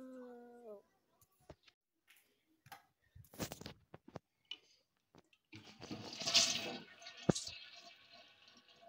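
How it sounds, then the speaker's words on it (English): A toilet flushes with a swelling rush of water in the second half, preceded by scattered knocks and brief clicks and a short voice at the start; the flush is loud and close, then fades with a sharp click. "I'm gonna flush you to the toilet, robot."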